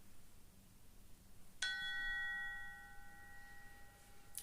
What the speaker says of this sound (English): You'll hear 3 bells that start the practice and 1 bell will end the practice.